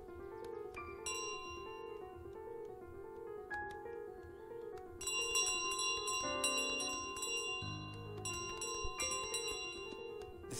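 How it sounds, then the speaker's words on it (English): A miniature bell in Untitled Goose Game jingles continuously with bright, rapid tinkling over light background game music. "Still the beautiful miniature bell."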